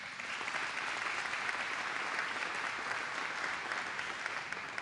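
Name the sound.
audience applause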